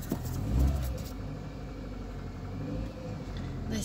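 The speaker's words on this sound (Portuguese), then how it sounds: "Deu uma afogada porque tá frio o carro." A cold car engine runs unevenly as it pulls out in reverse, a medium rumble with a brief swell early on and slight dips and surges, nearby and alone without speech.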